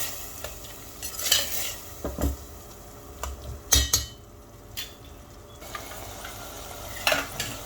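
Boiled chauli beans and tomato frying in oil in a pan while a spoon stirs them, with a soft constant sizzle broken by several sharp metallic scrapes and clinks against the pan.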